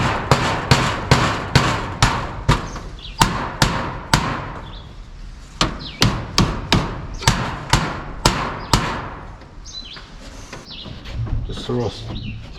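Hammer blows on wooden end panels being hung: roughly twenty sharp, close, evenly paced strikes fill the first ten seconds, followed by quieter handling noise.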